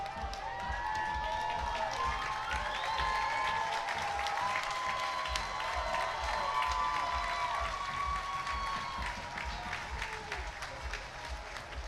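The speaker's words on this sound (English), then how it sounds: "Fans here now cheering Shuma as he goes back to midfield." Stadium crowd at a men's college soccer match between Bowling Green and Michigan claps and cheers steadily after a Michigan goal, a continuous moderate roar with a rhythmic thumping beat and whistle-like tones running through it.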